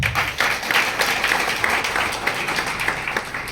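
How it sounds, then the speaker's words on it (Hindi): A crowd applauding steadily at a business-plan seminar, many hands clapping in a thick, continuous wash that holds the same loudness throughout. "जोरदार तालियां एक बार।"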